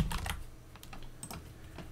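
Computer keyboard typing into a Linux terminal window, a run of quick clicky keystrokes in uneven bursts, close and moderately loud, with no talking.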